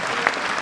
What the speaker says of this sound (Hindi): आपका नाम लेते ही लोग ताली बजाने लगते हैं।